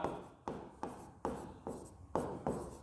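Pen strokes on paper while writing out a Class 10 maths solution, seven distinct scratchy strokes in a loose rhythm, close and alone.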